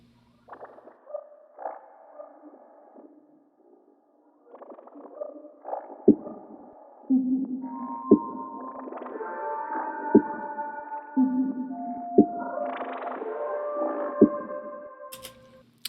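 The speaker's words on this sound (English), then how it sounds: "Just, I don't know, some weird little space sound." An eerie synthetic space sound, drenched in spun-out echo, drifts through tonal tones and smeared repeats, with sharp periodic clicks pulsing about every second under the wash. It plays alone and fairly quiet.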